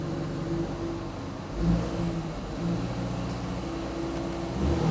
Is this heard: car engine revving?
yes